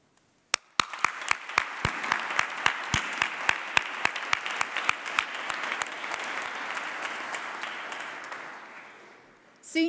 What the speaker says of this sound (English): So graduands, please also give a round of applause to say thank you to all your supporters, friends and family